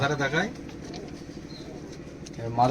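Domestic Giribaz pigeons, including a male bird, at a pigeon gathering in Katwa, Bardhaman. Low, soft cooing pulses sit between stretches of someone talking close by.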